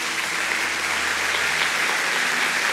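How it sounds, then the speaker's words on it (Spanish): A church congregation gives a strong round of applause during a sermon, a loud, even wash of many hands clapping continuously throughout. "Me dan un fuerte aplauso."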